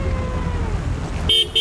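A car horn toots twice near the end, short and loud, over a steady rumble of city traffic in Syktyvkar in winter.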